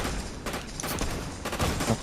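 Gunfire from bots shooting each other in the video game Fortnite, several quick bursts of shots crackling at moderate distance over a steady game background, with no talk.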